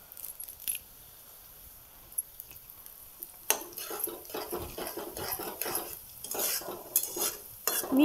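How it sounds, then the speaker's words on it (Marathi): Curry leaves hit hot oil for a spicy cabbage stir-fry, a quiet start giving way to a sudden burst of crackling sizzle with metal spoon clinks and stirring. "आता कढीपत्ता टाकते बघा"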